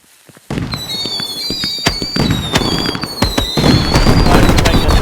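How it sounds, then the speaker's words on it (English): Fireworks going off in the Fireworks Mania video game: after a brief quiet start, dense crackling bursts and sharp pops begin, with whistling rising tones and repeated loud bangs building over several seconds. "Trying to make a nice, awesome firework."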